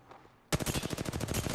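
Rapid gunfire striking the player in Apex Legends, a sudden dense burst of close automatic shots in a steady fast rhythm, loud and continuous after a brief quiet start.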